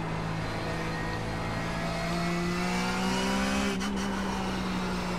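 A Porsche 911 GT3 Cup race car engine in the iRacing game, heard from the cockpit at steady loud revs with rising pitch through the gears, a brief shift cut near the end, no voices.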